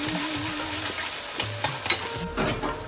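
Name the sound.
onions frying in a pan for misal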